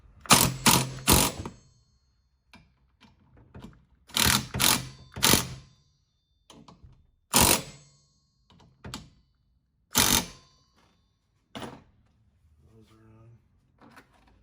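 A 13 or 14 mm ratchet wrench zips a nut tight on a front strut brace of a Corolla hatchback (E210), giving several quick bursts of sharp clicking separated by pauses, with quieter handling noises in between.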